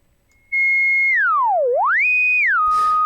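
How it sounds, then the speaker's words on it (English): A u-he Diva software synth filter self-oscillating at high resonance produces a loud, pure sine-like tone that sweeps down, then back up, and settles, ending with a brief noisy burst. "it does self-oscillate, and that's when, you know, the feedback kind of produces a sine wave with a lot of resonance."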